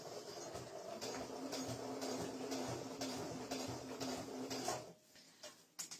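A sewing machine stitches a seam close to the edge of thick fabric for a pencil case, set to stitch length 3 to 3.5. It runs steadily with a quick mechanical patter for almost five seconds, then stops, leaving a few faint knocks.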